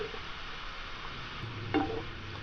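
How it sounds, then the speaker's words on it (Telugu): Mushrooms fry in a pan with turmeric and salt, giving a soft, steady sizzle with a brief scrape of stirring near the end, close and fairly quiet. "ఈ పుట్టగొడుగుల్ని ఒక ఐదు నిమిషాల పాటు దోరగా వేయించుకోవాలి"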